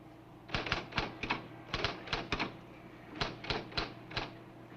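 Keys struck on a quiz machine in a sitcom classroom scene, tapped in short bursts of three or four sharp clacks with brief pauses between groups, close and clear over a quiet room.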